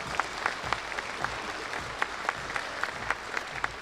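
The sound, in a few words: audience applause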